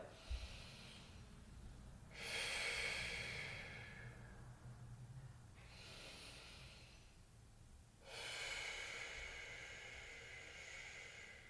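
Slow, deep breaths during a yoga session, two long airy inhale-exhale swells alone and close, with quiet pauses between them.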